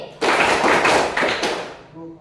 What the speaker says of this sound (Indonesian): Ibu guru berkata, tepuk 2 kali